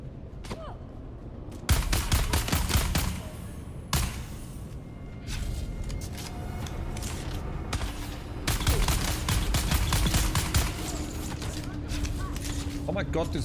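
Gunfire in Dune: Awakening: sustained automatic bursts rattle in long runs, loud and close, broken by short pauses between volleys, with people talking over the shooting.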